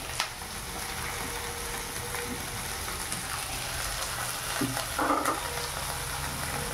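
Rava upma with green peas sautés in a pan, producing a soft, even sizzle with occasional stirring scrapes and a brief louder clatter toward the end.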